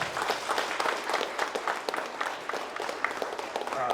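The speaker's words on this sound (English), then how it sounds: "So let's give them a round of applause." Steady applause from a crowd at a school board meeting honoring a district champion boys track team, sustained and fairly distant throughout.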